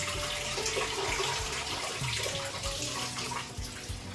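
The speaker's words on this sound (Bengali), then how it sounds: "আমি ভাতের ফেনটা আগে ঝরিয়ে নিই" Starchy water from a pot of cooked rice pours out into a sink in a home kitchen, a soft, continuous splashing trickle with faint gurgles, fairly quiet and steady throughout.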